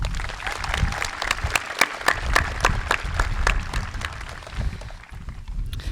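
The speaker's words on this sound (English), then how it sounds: "Let's give Mr. Imbush a round of applause." Graduation ceremony audience in a high school commencement applauding, a steady wash of many hands clapping with sharp individual claps standing out, tapering off toward the end over a low rumble.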